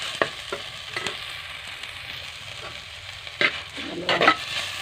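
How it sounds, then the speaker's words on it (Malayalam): Prawns coated with chili, turmeric and salt sautéing in a pan give a steady close sizzle with intermittent scraping stirs and a few louder clatters toward the end, with no talking. "അത് കഴിഞ്ഞ് ചെമ്മീൻ മുളകും മഞ്ഞളും ഉപ്പും കൂടി കരക്കി ഇതിലിട്ട് കൊടുക്കാം. ഇതിൽ നല്ലോണം വഴറ്റി കൊടുക്കാം."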